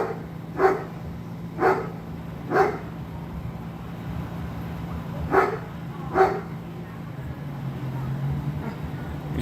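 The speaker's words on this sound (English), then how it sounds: "This dog is not helping." A dog barks outdoors in sharp single barks, three spaced evenly and then two more after a pause, fairly close, over a steady low hum near a police standoff at an assisted living home.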